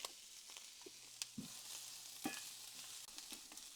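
Chopped onion with about half a teaspoon of salt sizzles softly in a pan for homemade hot sauce, a quiet steady frying hiss broken by a few light clicks and stirring taps.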